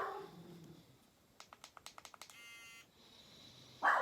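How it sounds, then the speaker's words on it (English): A dog named Shuggy barks indoors in a quick run of about eight sharp, evenly spaced barks. The barking is moderately faint and set against a quiet room, and a short tonal buzz follows it. "Sorry about the barking."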